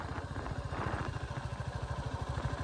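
A motorcycle rides a snow-covered mountain road to Parashar Lake in Himachal Pradesh in winter. Its engine gives a steady, close, rhythmic thrumming putter with light mechanical clatter throughout.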